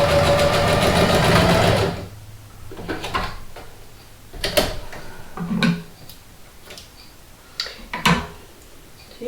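A sewing machine basts a strip of 1-inch ribbon for a stuffed horse's mane: about two seconds of fast, steady whirring stitching close by, then it stops and scattered clicks and knocks of handling follow.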